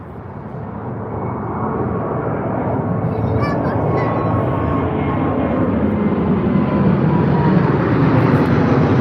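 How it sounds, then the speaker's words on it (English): British Airways Boeing 787-10 taking off from Heathrow on a Seattle departure, a broad jet engine roar building steadily and staying loud throughout, heard from a distance. "We've got a 787-10 heading out to Seattle, another American route for British Airways."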